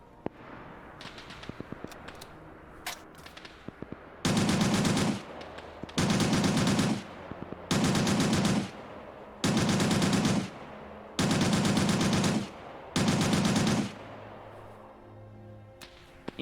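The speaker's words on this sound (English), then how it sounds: "You gotta love machine guns." Machine gun fire in Arma 3: six loud, sustained bursts of rapid automatic shots, each lasting about a second, separated by short pauses, with scattered single distant cracks before them.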